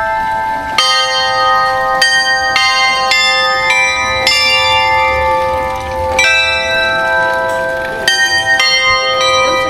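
Bells ring repeatedly at a cafe in Antipolo, bright metallic strikes recurring about every second or two with long overlapping ringing tones, loud and steady with no talking.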